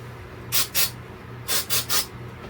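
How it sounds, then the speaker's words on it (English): Short hissing bursts of CA glue activator sprayed onto a 3D printed part, two quick puffs followed by a pause and then three more, close and crisp against a quiet room. "spray a little activator on the outside."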